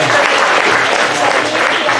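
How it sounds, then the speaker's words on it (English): A crowd claps loudly and continuously in dense applause that fills the short stretch, with cheering voices mixed into the clapping at a community gathering. "we do want to give Brother Johns a big round of applause for letting us have this here"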